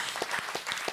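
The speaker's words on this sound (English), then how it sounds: "can we just have like a round of applause for this fucking panel" An audience at a conference plenary panel claps briefly, with several distinct, close hand claps standing out over a softer spread of clapping.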